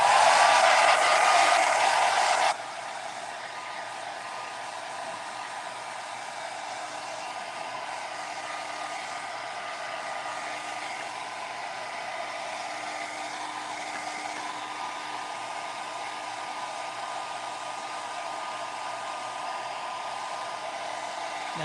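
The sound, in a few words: hair dryer drying matte sealer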